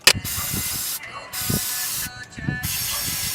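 Cleaner sprayed onto an SR20DET car engine in a garage, several steady hissing bursts of a second or so each, broken by brief pauses, with people talking over it.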